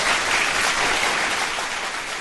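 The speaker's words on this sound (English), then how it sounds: "Big round of applause for that!" A dense, steady burst of applause from a crowd at a live comedy show, close and loud, holding full for about two seconds with no voices over it.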